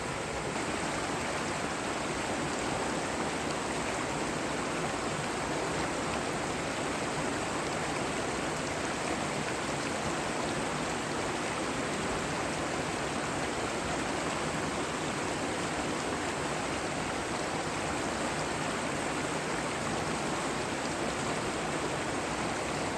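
A creek flows through a redwood forest in Northern California, its steady broadband rush of water running continuously and evenly throughout, close and unbroken, with no voices.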